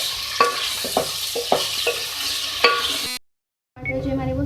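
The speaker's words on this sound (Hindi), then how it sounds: "2 मिनट इसको जो है फ्राई करेंगे।" Chopped medium tomatoes fried and stirred in a pan for a beef and capsicum dish, a constant loud sizzle broken by rhythmic spatula scrapes, then a sudden brief silence before the sizzling resumes.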